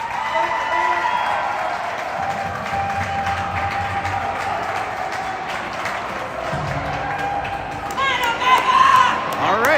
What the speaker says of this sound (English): All right, loud crowd on the Cottage Grove side.